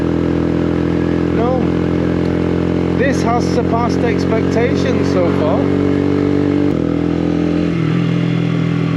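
A Honda CBR125 motorcycle cruising in a relaxed ride, its engine a steady, continuous drone with a small drop in pitch near the end, while a rider talks over it.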